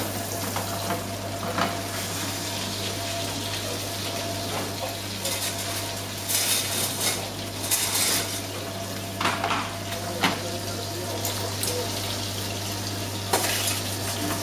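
Meat browning and frying in a pan in a restaurant kitchen, a continuous loud sizzle with bursts of spattering and occasional utensil scrapes and clinks against the pan.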